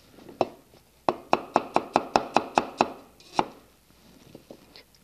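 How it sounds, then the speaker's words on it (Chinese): A knife chops ginger and scallions finely on a board, giving a quick, steady run of about a dozen crisp, evenly spaced cuts, close and alone with no talk. "所以这些呢都要切得碎碎的"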